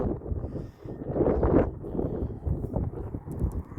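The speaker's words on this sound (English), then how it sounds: "I'll set my water bottle down so I can hold on to my hat because it's kind of windy here." Gusty wind buffets the microphone in rough, low rumbling bursts, swelling and easing outdoors on a sandstone bluff overlook without any voices.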